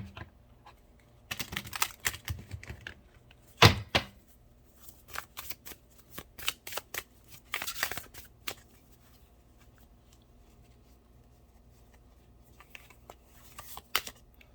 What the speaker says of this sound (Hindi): शफल कर लेते हैं हम लोग।